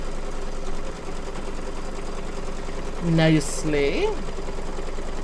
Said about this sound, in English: So it's going to stitch it down for us.